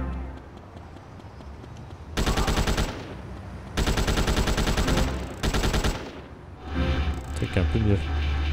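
Rapid submachine gun fire in GTA Chinatown Wars comes in three loud sustained bursts separated by short pauses, with game sounds before and after.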